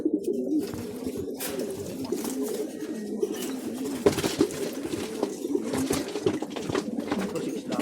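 Taiwan imported pigeons coo repeatedly in low, throaty pulses, close and moderately loud, with faint talking mixed in around the birds.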